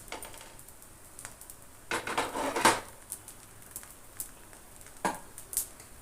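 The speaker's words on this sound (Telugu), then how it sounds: "ఇప్పుడు దోశ గరిటె తీసుకొని దోశ పైన క్యారెట్ ఉల్లిపాయ ముక్కల్ని మంచిగా నొక్కాలి" A spatula presses carrot and onion pieces onto a dosa frying on a pan: soft scattered scrapes and taps, a cluster of louder clinks in the middle, then a few faint knocks, close by and quiet.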